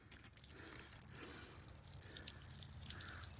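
Water sprays and trickles out of a home-made gravity-feed tow-behind trailer tank, a faint continuous splashing and dribbling with scattered drips.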